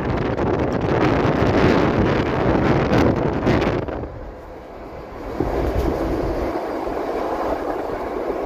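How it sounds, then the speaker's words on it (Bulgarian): A train travelling at high speed roars past loudly with heavy rumble and wind buffeting, then fades to a steadier, quieter rushing drone. "Освен че влака засили с зверска скорост."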